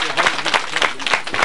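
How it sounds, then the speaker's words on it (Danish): Children at a kindergarten camp clap together for a girl named Katrine, a burst of uneven close applause in quick pulses with children's voices mixed through it. "skal vi klappe af Katrine?"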